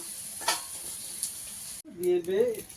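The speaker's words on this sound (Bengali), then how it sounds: "এখন দুজন মিলেই মাছ ভাজবো" Fish, apparently pomfret, sizzles and hisses steadily in a hot frying pan for a couple of seconds; then a voice speaks close by over the fading sizzle.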